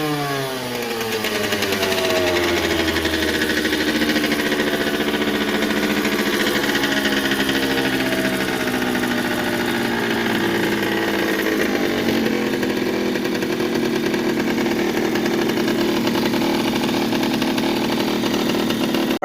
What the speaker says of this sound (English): so we got the YSR50 running